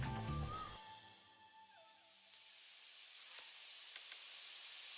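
Red and yellow bell peppers, onions and mushrooms sizzle in a little oil in a pan as pizza toppings, a quiet, steady hiss that follows a brief louder clatter at the start.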